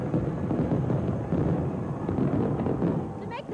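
Fireworks over San Francisco Bay for the Bay Bridge birthday rumble as a dense, continuous barrage of distant booms and crackles, with crowd noise mixed in.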